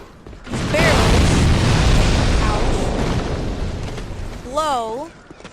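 In Dark Souls II, barrels blown up by a fire bomb let out a loud, booming explosion. A sustained roaring rumble follows and fades over several seconds, with a voice speaking over it.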